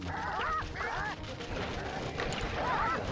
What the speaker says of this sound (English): helping a ghost kill a bunch of chickens so he can make his gumbo